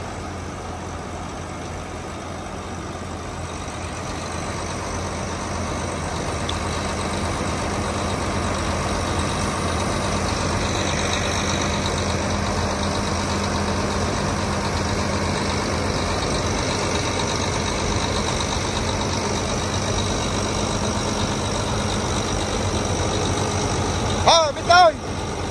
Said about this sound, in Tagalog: Tahimik ang makina.